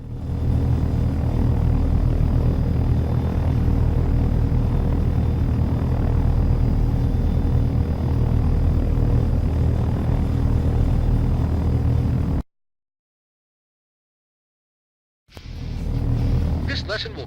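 Helicopter engine and rotor drone from the game Take On Helicopters, a loud, steady low rumble and whine running continuously for about twelve seconds, then cutting to silence before briefly returning.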